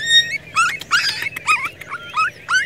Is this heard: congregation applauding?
no